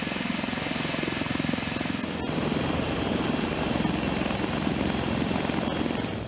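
A European attack helicopter runs steadily with a loud, continuous rotor and turbine drone and faint rhythmic blade chop, unbroken throughout.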